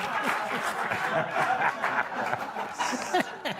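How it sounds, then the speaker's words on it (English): A studio audience at a late-night talk show claps steadily, with chuckles and laughter and some voices mixed in, the applause dense and sustained throughout. "Oh, keep clapping."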